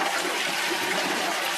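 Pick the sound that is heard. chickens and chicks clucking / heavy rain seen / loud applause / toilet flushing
toilet flushing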